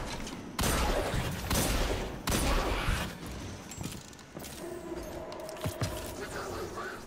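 Gunfire in Destiny 2 aimed at Cabal enemies: dense bursts of rapid shots hit hard in the first three seconds, then ease into lighter scattered pops and game effects over a steady background.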